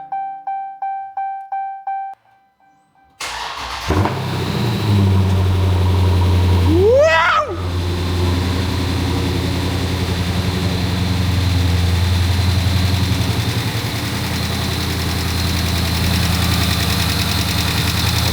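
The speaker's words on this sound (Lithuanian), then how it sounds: "Variklis dirb gražiai" A Dodge Challenger engine cranks and fires into a loud, steady low idle that runs on without a break.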